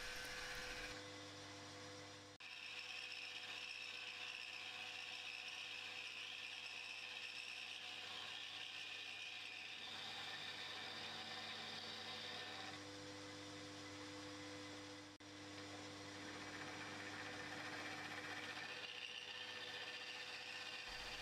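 A finishing cut on locomotive hornblocks, with the frames clamped to a machine table, runs as a faint, steady mechanical whine and hum with a couple of brief dips, and no talking.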